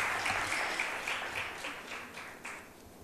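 Audience applause at a dance criticism event, a steady, moderately faint crowd clapping that slowly tapers over three seconds with no talk over it.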